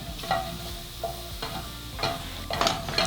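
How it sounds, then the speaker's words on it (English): Mushrooms and vegetables sizzle in a pan while a utensil scrapes and stirs in repeated strokes, close and moderately loud. "frying down our mushrooms and our veg"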